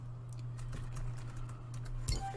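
Rapid typing on a keyboard during a Dreams game session on PS4, a short run of light, irregular key clicks over a steady low hum, ending in one louder tap.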